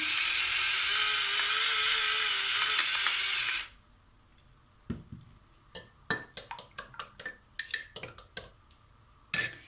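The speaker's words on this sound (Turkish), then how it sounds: "Biraz da karabiber çekelim." Black pepper cracked from a grinder over a broccoli omelette, a run of sharp, irregular clicks and scrapes close by, following a few seconds of steady loud hiss, with no talking.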